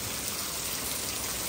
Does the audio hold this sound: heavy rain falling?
yes